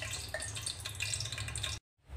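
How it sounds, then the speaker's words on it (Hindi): Fried bhallay dumplings dropped into a bowl of water make a close, faint, bubbly trickling and splashing that stops abruptly before the end. "यहाँ पे जो भल्ले हमने फ्राई किए थे वो सारे हम पानी में ऐड कर देंगे"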